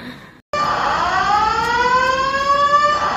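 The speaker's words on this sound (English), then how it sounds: "So the fire alarm is still going off as I record this." Fire alarm sounding inside an airport terminal: a loud, continuous electronic siren that starts abruptly after a short gap and holds steady with rising, sweeping tones, with no talk over it.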